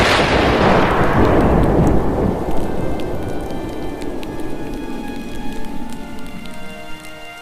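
Heavy rain pours steadily while thunder rumbles loudly at the start and slowly fades, leaving a dense, close downpour through the rest of the stormy night.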